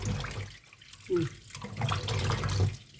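Tap water runs steadily into a sink while freshly picked wild mushrooms are rinsed. The rushing, splashing flow is close and continuous, with small bumps and shifts as the mushrooms are handled.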